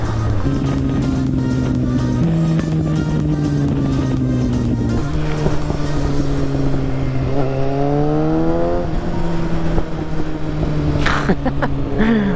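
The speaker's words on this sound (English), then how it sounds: "you can hear the pops and crackles coming out of this exhaust inside it on the dyno" A Kawasaki ZX-6R motorcycle engine revs on a dyno and holds steady drones, with sharp exhaust pops and crackles bursting out near the end, loud and close in an enclosed space.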